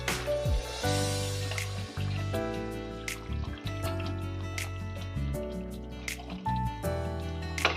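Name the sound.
kewra water and rose water poured into biryani rice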